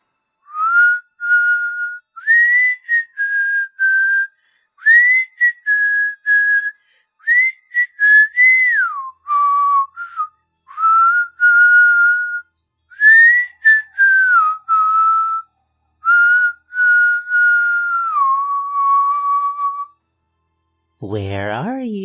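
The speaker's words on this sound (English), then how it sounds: "He whistled." A man whistles a slow melody, clear and close, in phrases separated by short breaths, ending with a sliding, warbling note.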